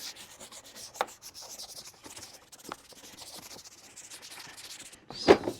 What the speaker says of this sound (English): Scrubbing goes a long way.